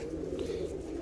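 Caged tippler pigeons, all cock birds, give a low continuous cooing that stays steady and close for a brief moment, with no talking.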